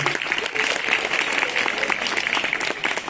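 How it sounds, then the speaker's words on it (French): An audience at the Institut français de Tunis gives a warm round of applause at a literary event, dense steady clapping heard close and continuous throughout. "On peut l'applaudir."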